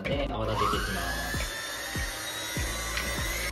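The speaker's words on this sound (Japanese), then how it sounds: "そしたらハンドミキサーで泡立てていきます。" An electric hand mixer whips eggs in a bowl for a chocolate caramel banana cake batter. A steady motor whine rises in pitch as it starts, then runs continuously and close by.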